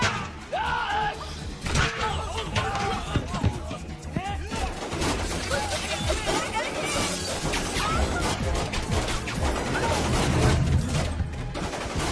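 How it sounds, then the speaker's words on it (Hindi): Gunfire in a Hindi movie fight scene: rapid, continuous bursts of shots mixed with crashes, thuds and shattering impacts, dense and loud throughout, with voices shouting over the action. "अरे चला गोली।"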